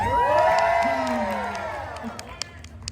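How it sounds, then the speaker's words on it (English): A crowd at a Deadpool and Wolverine holiday show at Disney California Adventure cheers and whoops loudly, with high voices rising and falling and scattered claps, the cheering fading toward the end. "Please cheer louder so they give me a bonus."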